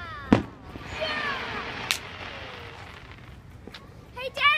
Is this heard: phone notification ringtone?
no